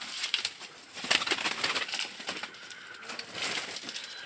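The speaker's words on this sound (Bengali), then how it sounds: "ভয় পেয়ে চলে যাইতেছে কবুতরগুলো" Pigeons at a rooftop loft taking off in fright, a close flurry of flapping wings with rustling and soft scuffling that rises and falls for several seconds.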